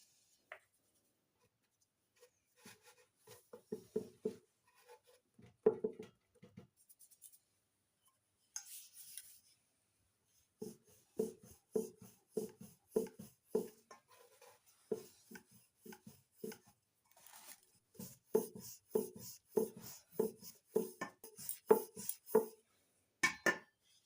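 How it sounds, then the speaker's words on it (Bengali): Cauliflower paratha dough balls rolled out with a rolling pin on a floured surface, giving repeated soft rhythmic knocks and rolling thumps in steady bursts, with short pauses between rounds and no talking. "এক একটা করে লেচি নিয়ে আমি ময়দার সাহায্যে বেলে নেব"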